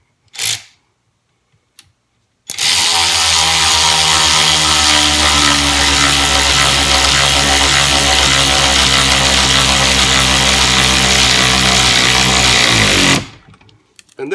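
16V cordless long neck ratchet driving a 10 mm bolt: a loud, close motor whine with a buzzing mechanical rattle runs steadily for about ten seconds after a couple of small clicks, then cuts off abruptly.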